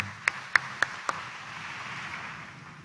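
Four sharp, evenly spaced claps ring out in the first second over a quiet room tone, then only faint background hush remains; a congregation at a Friday morning devotional mass for Jesus Nazareno at Quiapo Church.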